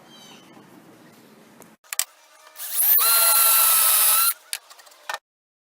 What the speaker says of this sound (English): I'm just going to drill a 1/4 inch hole into this block